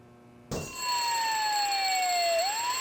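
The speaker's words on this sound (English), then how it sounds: "There was something with this fire alarm." Fire alarm in the video game Harvester sounds after a brief quiet start, a loud steady electronic ringing tone with a slowly falling pitch that holds to the end, no voices.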